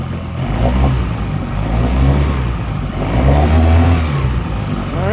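A 2006 Mercury 15 HP outboard motor on its first cold start after carburetor cleaning, running close and loud with an uneven, stumbling idle and brief surges in revs.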